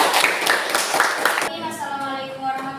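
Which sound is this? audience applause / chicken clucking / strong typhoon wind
audience applause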